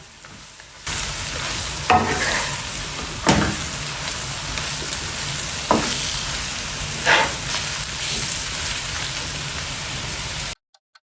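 Spiced dhaba-style masala bhindi (okra) frying in a pan, a continuous crackling sizzle with several louder spatula stirs and scrapes at intervals, then an abrupt cutoff at the end.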